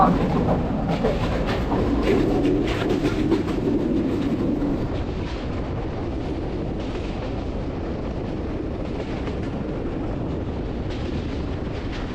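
A train rumbles past near Ishwardi in Rajshahi, Bangladesh, a steady, dense roar that stays loud throughout and eases slightly after the first few seconds.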